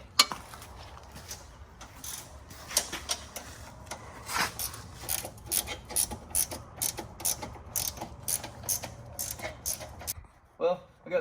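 Ratchet wrench clicking in quick repeated bursts while an exhaust bracket is unbolted from a Can-Am Renegade ATV, close and fairly loud, with a low hum underneath and no talking.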